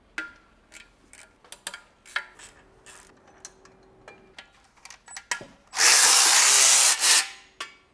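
Power tool removing the oil pump from a BMW E36 328i engine: scattered ticks and clanks of handling parts, then a loud sustained burst of a drill or impact driver lasting over a second, followed by a shorter second burst.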